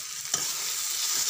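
Potato, eggplant and tomato curry being stirred in a wok, a steady soft frying hiss with one brief scrape of the spoon near the start, close and alone.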